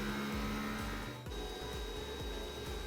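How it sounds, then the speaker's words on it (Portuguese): An Anycubic Kobra S1 3D printer runs its input shaping vibration calibration, giving a steady mechanical hum with a rapid series of low buzzing pulses as the motors shake the machine, close by and with no talk. "essa parte da impressão que a impressora vai voar, mas é a parte da calibração aqui do Input in Shape"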